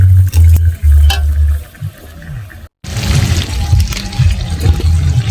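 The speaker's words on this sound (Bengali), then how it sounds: "মাংসটা আমি এইভাবে ভালো করে কষিয়ে নেব।" Chicken pieces are stir-fried in a pan while the masala cooks down for chicken kosha, with loud close stirring and wet bubbling sizzle broken by a brief dropout.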